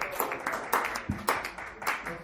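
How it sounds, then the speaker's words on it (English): An audience at a dive bar comedy memorial show claps in a short burst of uneven applause, moderately loud and close, with a voice speaking over it. "Another round of applause to Mr. Kenny Lyle"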